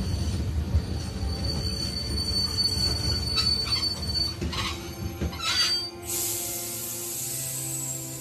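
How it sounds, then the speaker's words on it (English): A train in The Walking Dead video game braking to a halt, with rumbling wheels and rattling cars, scattered metallic squeals building, then a sustained high wheel screech as it stops. Nearby, no voices. "Stop this train, Kenny."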